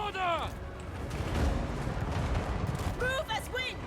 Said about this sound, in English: They're getting blasted by cannons and the like, so they should die soon enough.